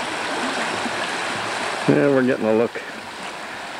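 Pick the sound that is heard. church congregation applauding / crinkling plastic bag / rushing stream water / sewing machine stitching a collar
rushing stream water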